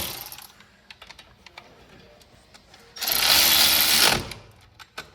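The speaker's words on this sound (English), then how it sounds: "you're gonna tighten it down with a 14mm socket" A 14mm socket tightens the brake caliper bolts on a 2014-18 Subaru Forester: sparse close mechanical clicks, then a loud one-second rasping burst, then a few more clicks.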